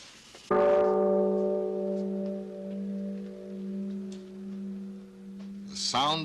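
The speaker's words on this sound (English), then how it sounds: "The sound of the bell," A Japanese Buddhist temple bell is struck once and rings with a loud, steady humming tone that slowly pulses and fades over several seconds, before a brief clatter at the end.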